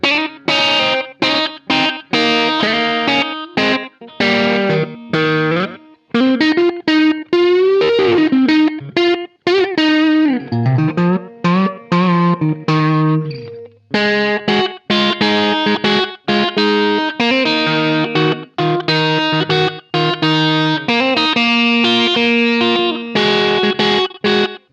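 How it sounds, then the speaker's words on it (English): Electric guitar played through a UAFX Del-Verb pedal on its Echoplex setting, giving a short slapback echo with light modulation and drive; chords and single notes ring out loud and continuous, each repeated quickly by the delay. "Now let's see how the Del-Verb slaps back. I've got it on the Echoplex setting"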